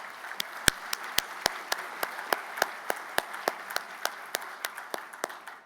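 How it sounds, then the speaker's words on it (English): A small audience applauding an Air Force Honor Guard at a ceremony, sparse, evenly spaced claps that sound fairly distant and soft, with a few separate sharp hands standing out. "How about a round of applause for our Air Force Honor Guard"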